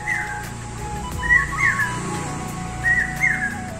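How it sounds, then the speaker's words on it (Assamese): An Asian koel calls in two bursts of bright, rising whistled notes, moderately near, over a low background hum. "বাৰু কুলিয়ে মাতি আছে"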